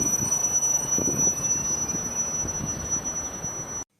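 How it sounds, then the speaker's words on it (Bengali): A train pulling into a small village station, a steady low rumble of wheels on rails with a thin high squeal running throughout, fairly loud and close, ending abruptly. "স্টেশন এসে গেছে, এখানে কিন্তু ট্রেন মাত্র 2 মিনিট দাঁড়াবে।"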